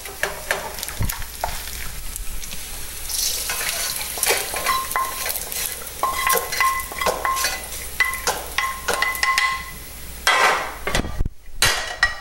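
Bacon sizzles in a pan, a constant crackling fry under clanks and scrapes of utensils against the pan, with a few metallic knocks near the end.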